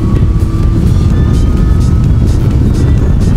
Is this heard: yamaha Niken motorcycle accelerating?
yes